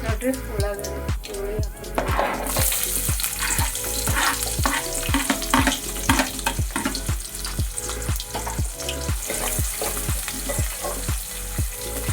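Mustard seeds and cumin crackle and sizzle loudly in a hot pan, a dense steady fry with rapid popping spread across the whole stretch and no talk over it.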